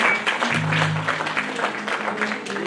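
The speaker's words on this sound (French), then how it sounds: "Nous applaudissons Pasteur pour courage." Church congregation applauding the pastor at a Sunday service, steady broadband clapping throughout with a low hum or voice tone underneath in the middle.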